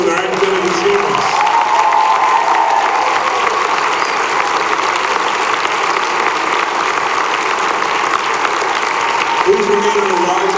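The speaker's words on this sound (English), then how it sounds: "Let us applaud these honor graduates for their academic achievements." A large crowd at a senior recognition ceremony applauds honor graduates with sustained, loud, even clapping that fills the hall from start to finish.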